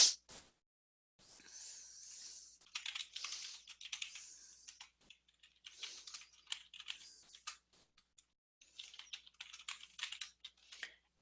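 Fingers typing on a computer keyboard, a quiet close patter of key clicks in irregular bursts separated by short pauses, with no talking.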